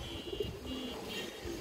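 A restless pigeon of the Beji line, a Bagha and Beji cross, coos softly in a couple of low, brief murmurs against faint background hiss, with no voices.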